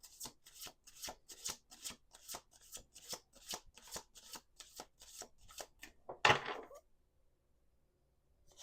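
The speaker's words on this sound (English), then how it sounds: "This is the last shuffle, by the way." Tarot cards are shuffled at close range in a quick series of about fifteen crisp riffling bursts, ending in a louder snap before silence.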